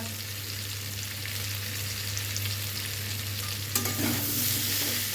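Ginger paste frying and being stirred in a pan for a Bengali vegetable curry, a steady close sizzle with a constant low hum beneath and a brief louder hiss near the end.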